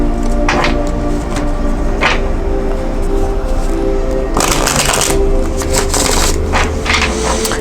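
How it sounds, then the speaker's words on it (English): A deck of tarot cards is shuffled in repeated riffles. Sharp, crisp bursts of card flutter and taps sit close to the microphone over a steady background hum. "I'm going to go ahead and shuffle these 2 more times"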